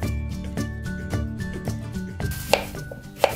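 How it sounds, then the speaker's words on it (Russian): A few sharp knife chops through potatoes on a cutting board, spaced apart, sound over steady background music. "Картошку очищаем, нарезаем и чуть-чуть подвариваем."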